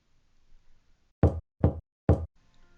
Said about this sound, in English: they hear numerous loud bangs coming from their door